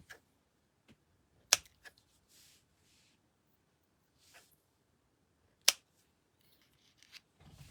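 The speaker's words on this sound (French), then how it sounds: "Là, j'ai utilisé des ciseaux à couture." Sewing scissors cutting paper while making a card: a few isolated sharp snips spaced seconds apart, with faint rustling between them in a quiet room.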